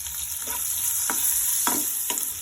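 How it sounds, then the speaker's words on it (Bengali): Chopped onion and spices fry in a pan with a bright, steady sizzle, broken by a few distinct scraping stirs. The sound is close and there is no talking. "তারপর পেঁয়াজ কুচিটা দিয়ে দিলাম"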